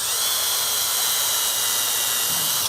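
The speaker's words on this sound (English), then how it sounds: "And that's so I can drill a hole through here without putting undue stress" A small drill bores a hole through a piece of scrap wood, giving a steady high-pitched whine held close for nearly three seconds before it cuts off abruptly.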